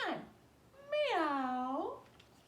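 A voice imitates a cat meowing during a children's story-time yoga session, giving one short call and then a longer, drawn-out meow with a rising and falling pitch, close and clear.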